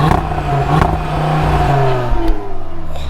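An Audi RS3 on a test track gives a quick, loud rev, its engine rising and falling in pitch up close, with no talk over it.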